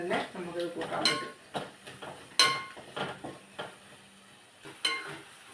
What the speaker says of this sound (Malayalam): ഇനി ആ സവോളയും തേങ്ങയും എല്ലാം വഴന്നേ